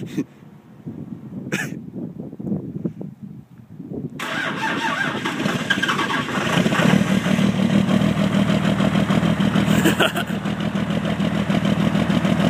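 A Cummins 5.9 diesel engine cold-starts: a few faint clicks and a pump whir, then the engine cranks and catches near the four-second mark and settles into a loud, steady idle. A brief voice is heard near the end.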